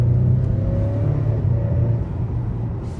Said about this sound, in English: We'll do a little bit of an acceleration pull.